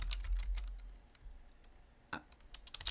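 Keys clacking on a laptop computer keyboard while a Linux xrandr terminal command is entered, a few scattered clicks then a quick burst of taps near the end, close and fairly quiet.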